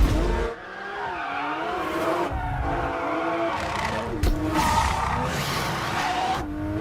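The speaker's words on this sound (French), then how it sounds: "une vidéo sur circuit d'une Porsche 911 GT3" A Porsche 911 GT3 on a race circuit, its engine revving and shifting loudly with tire squeal and skidding, layered with music throughout.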